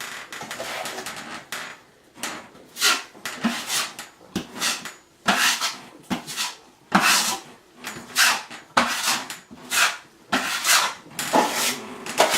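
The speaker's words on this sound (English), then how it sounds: "Keep cleaning off your scraper so that way it's easier to pick up any excess spackle that you don't need." A drywall scraper drags repeatedly across spackle on a wall in a run of close, rhythmic rasping strokes with brief pauses between them, some strokes longer than others.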